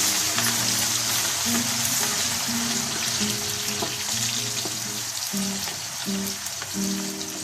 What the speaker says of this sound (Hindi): तो तेल मैंने पहले गर्म करने के लिए रख दिया था, इसमें प्याज डाल देते हैं।